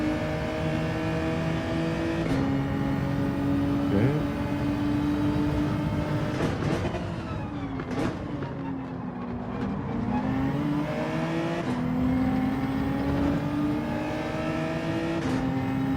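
Race car engines in Gran Turismo 7 drone steadily and loudly throughout, their pitch rising and falling as the cars accelerate, shift and brake through corners, with a brief dip in the middle.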